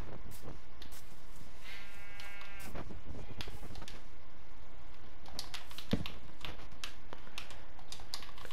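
A single short sheep bleat from the video game Minecraft rises over near, constant computer keyboard clicking and mouse taps.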